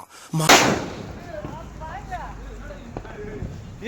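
A sharp, loud firecracker bang bursts near the start during Diwali celebrations, followed by a reverberant tail, with people talking and chattering afterward.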